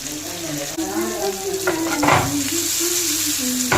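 Tuna pieces frying in hot oil for a Kerala-style fish pickle, giving a steady close sizzle with occasional stirring and a brief louder burst of spattering midway.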